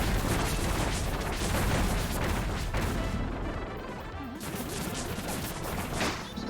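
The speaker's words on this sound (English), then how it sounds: "Here are my explosions." Continuous, dense rumbling blasts and crashes from bomb explosions in the video game Kirby Star Allies, loud and sustained throughout with no pauses.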